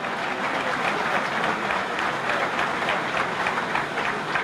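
A large crowd at a political address claps steadily to honour soldiers, a dense continuous wash of applause at full volume with no pauses, filling the whole span.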